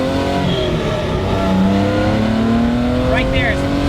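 A Datsun 240Z engine pulls steadily under acceleration on the road, its rising harmonic drone loud and continuous, with a short squeal-like chirp near the end.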